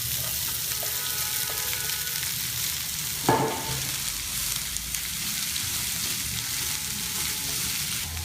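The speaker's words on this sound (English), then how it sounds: "I have heated 3 teaspoons of oil, add few mustard seeds and some cumin seeds to it. Next, add in the chopped cabbage." Chopped cabbage frying in hot oil with mustard and cumin seeds, a steady soft sizzle and crackle throughout, with a brief clatter of stirring near the middle and no talk.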